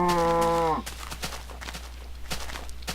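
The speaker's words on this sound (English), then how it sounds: "those cows are so loud in my ears" Loud, close cow moo from Minecraft, a single harmonic-rich call lasting under a second, then faint scattered game clicks and steps.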